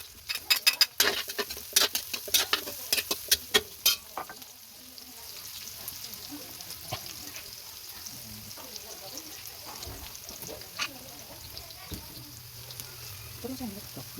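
Onion and garlic sautéing in a pan for pansit bam-e, a steady close sizzle with stirring and sharp utensil clicks against the pan, loudest in the first few seconds, then a softer continuous frying hiss.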